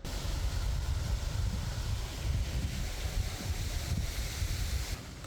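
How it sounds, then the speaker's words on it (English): Strong wind roars and buffets steadily against the microphone, a dense low rumble with no voices. "It is super windy outside today."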